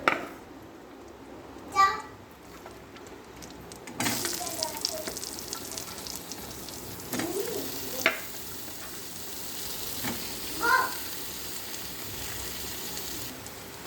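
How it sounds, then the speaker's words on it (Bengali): Potatoes and onions frying in fish oil, a soft hiss that rises into a fuller sizzle partway through, with occasional stirring knocks and a voice in the background. "এবারে আমি আলু পেঁয়াজ ভেজে নেব।"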